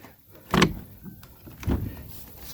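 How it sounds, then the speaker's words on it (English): A big door at a farm animal barn being opened, two loud close scraping thuds about a second apart with a short rattle between them. "Alright, let's get this big door open."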